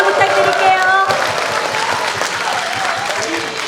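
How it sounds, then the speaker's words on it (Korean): A talk show audience applauds with broad, steady clapping, and voices speak over the crowd, one of them clearly during the first second. "박수 부탁드릴게요."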